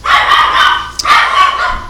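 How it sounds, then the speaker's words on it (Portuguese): Dogs barking in a loud, close run of overlapping yips and barks, with a brief gap midway, the sound high and sharp. "Ô, os cachorros aí."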